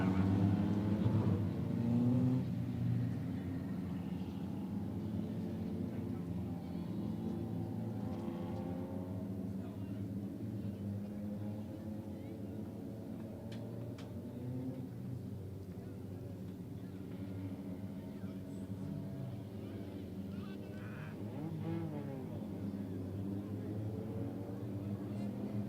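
Race cars circle an oval short track under a full course yellow, engines droning at steady reduced pace for a long stretch, a constant mid-distance rumble with passing swells and no distinct speech over it.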